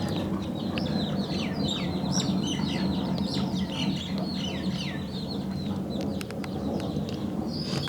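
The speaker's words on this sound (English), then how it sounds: "I get to see baby chicks in my yard" Baby chicks in a backyard, with a dense chorus of cheeps and clucks close by, steady and continuous over soft outdoor background sound and no speech.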